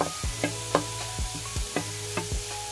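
Carrots tumble into a hot pan of sautéed onions, raising a steady sizzle with a handful of sharp stirring clacks from a utensil against the pan, close and moderately loud, no talking.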